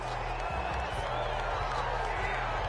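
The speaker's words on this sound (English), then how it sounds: "Well, the crowd doesn't like that." A stadium crowd in a football video game gives off a constant, dense roar of noise, steady and loud throughout, with a low thudding undertone.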